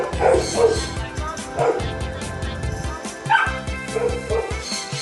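Several dogs bark and yip in quick bursts close by, loud and overlapping, with someone talking over and between them.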